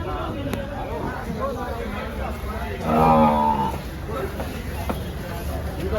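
A buffalo lets out a single low moo amid continuous crowd chatter and the busy background noise of an outdoor buffalo market in Dhule, Maharashtra.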